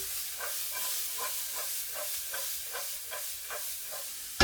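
Red onion, white onion and garlic cooking in a pan give a steady sizzling hiss with a soft, regular pulsing rhythm, close and moderately loud, with no talking.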